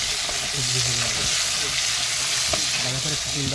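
Fish, Rita and Tengra caught in the Sundarbans, frying in hot oil in a pan, a dense continuous sizzle with scattered sharp pops and spatters and occasional soft stirring knocks, close and loud.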